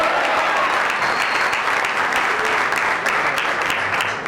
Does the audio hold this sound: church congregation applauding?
yes